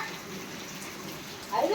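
Steady rain pours down outdoors, a continuous broad hiss that stays level throughout, with a slightly louder rush of water near the end.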